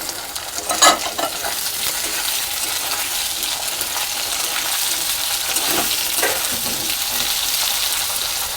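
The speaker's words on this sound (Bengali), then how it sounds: "এবার আমি ওতে পেঁয়াজগুলো দিয়ে দিলাম।" Onions added to a pan of hot oil sizzle steadily while being stirred, with a clatter of the spatula near the start and a few scrapes later, loud and close.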